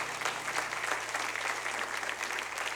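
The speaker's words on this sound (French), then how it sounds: "oui, on peut l'applaudir." A church congregation applauds during a Sunday service, a steady, dense wash of clapping hands that fills the room without pause, with a low constant hum beneath.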